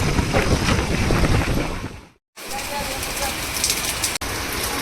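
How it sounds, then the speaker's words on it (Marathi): Heavy rain pours down outdoors during a ride home from a buffalo market, a dense, loud roar of falling drops with wind buffeting the microphone, broken by a brief dropout midway. "पाऊस पण पडायला लागलाय. खूप मोठा पाऊस येतोय वाटायला."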